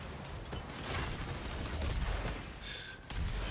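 Rocket launcher firing in the beta of the DOOM video game, a dense run of booming blasts and explosions over constant rumbling game noise, loud and continuous with no pause.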